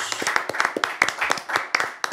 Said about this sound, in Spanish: Se me dirá, ¿quién aplaude sí, si no hay público presente? Nosotros mismos.